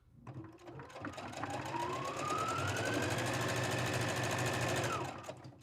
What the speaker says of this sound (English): We're going to go forward and back a couple stitches and then just keep going.